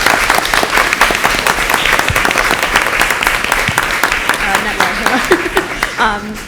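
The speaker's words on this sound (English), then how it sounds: "They deserve a round of applause." A crowd at a school board meeting breaks into loud, sustained applause, many hands clapping densely together, with a voice briefly heard near the end.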